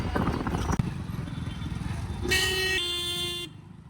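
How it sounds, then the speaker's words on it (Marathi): Busy street traffic, with a single sustained car horn blaring for about a second near the end over a dense background of engines, commotion and indistinct voices. "ट्रॅफिक नुसती ट्रॅफिक नुसता धिंगाणा"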